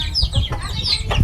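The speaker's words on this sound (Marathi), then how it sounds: "अरे यार कोंबडीच खाऊन टाकायला लागली." A farm hen clucks loudly and close while pecking at tomatoes tossed for her chicks, several quick throaty clucks in a short burst.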